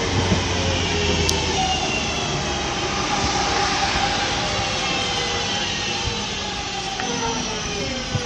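A Northern Rail Class 323 electric train pulls out of Cheadle Hulme station bound for Crewe, a steady broad rumble and hiss holding at an even level throughout, with no voices over it.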